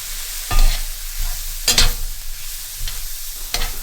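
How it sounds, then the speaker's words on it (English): Onions, carrots and spices with Chinese five-spice sautéing in a pan, a soft close sizzle broken by a few sharp spatula scrapes and knocks at irregular intervals. "We're going to let that continue to saute for about another 5 minutes."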